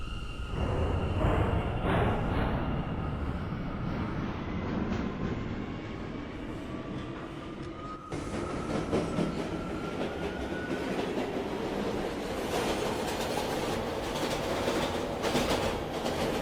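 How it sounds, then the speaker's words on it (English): A Bronx-bound New York subway D express train runs steadily at 59th Street–Columbus Circle, a continuous loud rumble of wheels and carriage noise with rail clatter, building slightly after a brief dip midway, with no talk. "is a Bronx-bound D express train"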